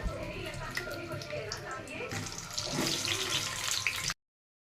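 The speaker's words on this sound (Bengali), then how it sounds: "তেলগুলো গরম হয়ে গেছে, আলুগুলো আমি দিয়ে দেবো" Potatoes go into a pan of hot oil for frying, setting off a loud rushing sizzle that swells midway and continues until it cuts off abruptly.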